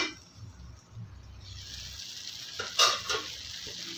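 Cubed eggplant sautés in a pan for a vegetable chutney, giving a soft, steady sizzle up close. Near the end a spoon stirs it with a couple of brief louder scrapes.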